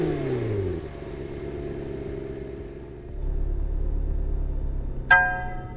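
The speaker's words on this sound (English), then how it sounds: "Now let's get into the GT and start it up." A 2020 McLaren GT engine starts up, settling from a falling rev into a steady deep rumble, with a short electronic chime near the end.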